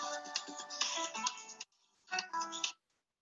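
A telephone rings in two electronic bursts separated by a short gap, a fairly faint, warbling tone with no voices, then silence.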